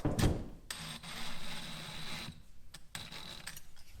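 Ratcheting, rubbing turns as a mount for a Sonus Faber Olympica Nova W in-wall speaker is tightened, soft close clicks and scrapes coming in short bursts with pauses, fairly quiet and without speech.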